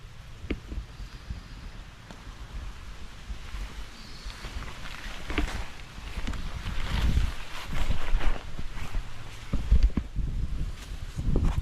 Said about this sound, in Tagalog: Ay, lakas ng hangin.